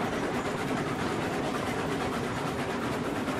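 A double-locomotive freight train in the game Railroads Online rumbles along with a dense, steady rolling noise and no pauses.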